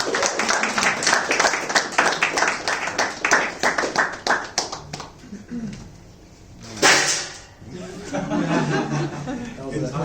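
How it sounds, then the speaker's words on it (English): Scattered clapping from an audience at an AGM, a burst of claps that thins out after about five seconds, mixed with chuckles and voices, then quieter talking. "Big round of applause for Doug."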